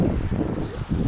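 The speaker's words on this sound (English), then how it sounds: "I know it's windy out here." Gusty outdoor wind after a cold front rumbles and buffets the microphone in a continuous, loud low roar.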